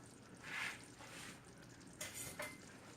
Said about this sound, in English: Stir it around gingerly.